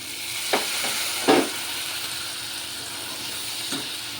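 Pieces of drumstick frying with onions in a pan: a continuous steady sizzle with a few brief louder spatters and stirring scrapes.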